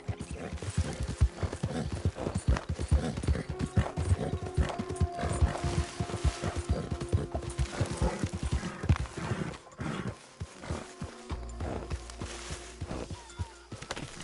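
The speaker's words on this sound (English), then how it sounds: "get that horse out of here" Steady clip-clop of horse hooves on a hard surface in the video game Red Dead Redemption II, loud and continuous, with occasional clanking and a faint whinny.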